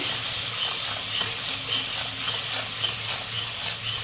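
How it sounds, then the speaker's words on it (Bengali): Turmeric and red chili powder stirred in hot oil in a pan for a vegetarian potato and pointed gourd curry, giving a steady, close sizzle with soft scraping running throughout. "ভালো করে মশলাটা নাড়িয়ে নেব"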